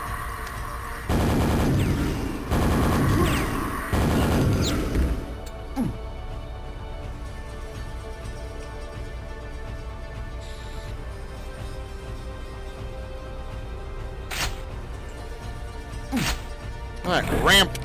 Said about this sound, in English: Yes, super nail gun time again.